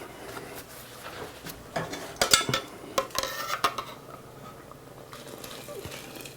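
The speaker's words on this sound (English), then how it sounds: "Give this 1 more stir." Utensils clink and scrape against a pot as pumpkin risotto with bacon is stirred, a few sharp clatters in the middle over a quiet simmering background.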